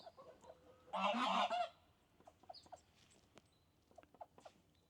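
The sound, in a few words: geese honking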